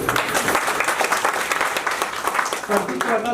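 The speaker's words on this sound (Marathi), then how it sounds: "एकदा जोरदार टाळ्या" Audience at a felicitation ceremony bursts into loud, sustained applause, dense overlapping clapping filling the whole moment close and full.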